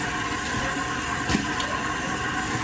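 Warm water runs from a tap at a home sink, a steady, close, rushing gush with a faint bump partway through, continuous for a few seconds with no speech.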